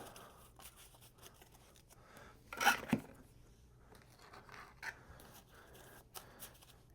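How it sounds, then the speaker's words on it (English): A quick burst of papery riffling as cards for the Arkham Horror card game are shuffled rises briefly in the middle of quiet handling noises and soft rustles. "give this a shuffle."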